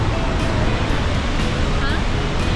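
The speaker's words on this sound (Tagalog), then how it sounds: "Niagara Falls, y'all." Niagara Falls roaring, a dense loud unbroken rush of falling water filling the short stretch, with wind buffeting the microphone.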